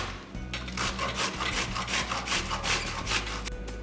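Cabbage being grated by hand for coleslaw, a steady run of rough rasping strokes repeating in quick rhythm, close and fairly loud, with no talking.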